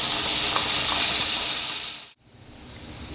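Ginger garlic paste frying with tomato and onion paste for chana masala, a loud steady sizzle that cuts off sharply near the end, then resumes more quietly.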